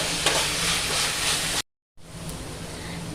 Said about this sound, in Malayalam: ഒരു ഗോൾഡൻ കളർ ആകുന്നിടം വരെ നമ്മളിത് വഴറ്റേണ്ടതുണ്ട്.